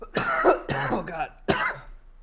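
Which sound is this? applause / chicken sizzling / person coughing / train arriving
person coughing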